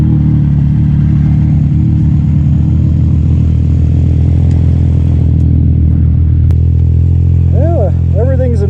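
A tuned, clutched and piped snowmobile engine runs steadily and loud, a constant droning idle filling the shop, with brief voices near the end.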